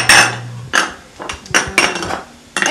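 A spoon clinks and scrapes against a bowl in several quick bursts as oatmeal is stirred into a seasoning mixture, close and fairly loud with brief pauses between strokes.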